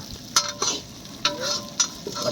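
Onions sautéing in a pan, a soft background sizzle punctuated by four or five sharp spatula scrapes and knocks at irregular intervals, close by.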